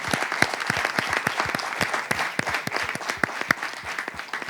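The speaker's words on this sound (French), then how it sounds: "J'aimerais qu'on applaudisse tout de suite." Sustained audience applause at a live business talk show, a steady dense crackle of many hands with individual claps popping out, even in loudness for several seconds with no talking.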